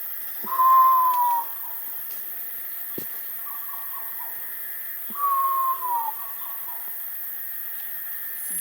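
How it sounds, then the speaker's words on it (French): Two loud whistling wails from a diademed sifaka (Propithecus diadema diadema) in a Madagascar rainforest at Anjozorobe, each a clear descending cry followed by fainter warbling notes, with a few soft knocks and steady insect hiss between them. "C'est le cri des Propithecus diadema diadema."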